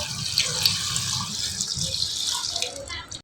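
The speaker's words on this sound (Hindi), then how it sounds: "अब इसमें डालेंगे हम 2 लीटर पानी का।" Two litres of water pour steadily into a pressure cooker already holding onion and tomato, a close splashing gush that runs throughout before tapering off near the end.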